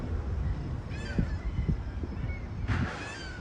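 Several harsh, honking bird calls ring out over a steady low rumble, scattered across the clip at moderate distance.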